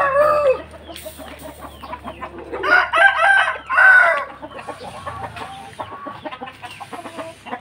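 Several Bangkok fighting roosters crow loudly and close by at a trainer's place in Pasar Minggu, South Jakarta, with overlapping cock-a-doodle-doo calls and some clucking between them.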